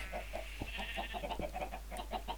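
Chickens clucking in Minecraft, a quick run of soft, evenly spaced clucks under a faint steady hum, with no voices.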